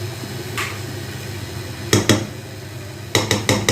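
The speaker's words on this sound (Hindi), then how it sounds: "अब मैं इसको रस्सा हल्का सा मिक्स कर देती हूँ।" Vegetable biryani gently mixed in a cooking pot, with a few sharp metallic clinks and taps of a spoon against the pot, mostly single knocks followed by a quick burst of three near the end, over a quiet background.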